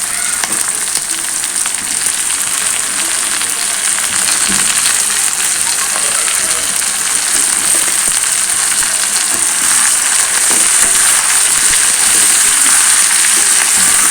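Tomatoes and reddened onions sautéing together in a pan for cashew curry give a loud, even, rain-like sizzle throughout, with faint stirring under the steady crackle and no one speaking.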